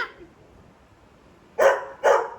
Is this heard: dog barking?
yes